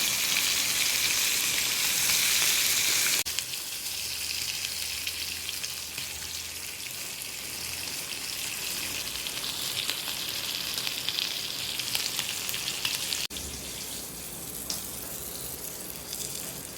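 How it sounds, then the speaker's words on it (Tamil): Prawn heads fry in a pan on the stove with a loud, continuous sizzling hiss that swells at the start, settles to a steady crackle, then dips slightly near the end. No one talks. "தலை எறாவுடைய தலையெல்லாம் நல்லா பொரிச்சாச்சு, நல்லா ஃப்ரை ஆகிடுச்சு பாருங்கள்"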